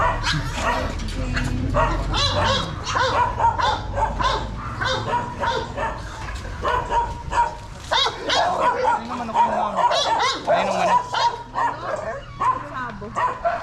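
American Bully dogs bark and yip repeatedly nearby, with some whimpering, while people talk over them throughout.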